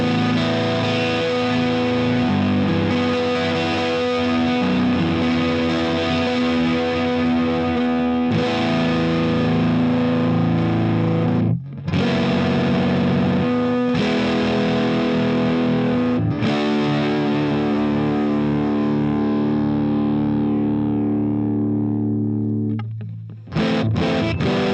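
An electric guitar on its rhythm pickup plays through a MojoTone Lerxst By-Tor boost and drive pedal, giving loud, distorted sustained chords with chorus-like shimmer and brief breaks between strums, ending with a short cutoff.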